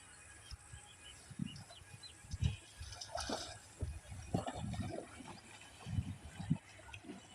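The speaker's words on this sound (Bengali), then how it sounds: "সামনে তিনটা মোষ অলরেডি নেমে পড়েছে জলে আর বাকিগুলো আসছে দেখো নামার জন্য" Water buffaloes wade into water on a hot evening, making irregular splashes and sloshing, some close and some farther off, with faint outdoor ambience between the bursts.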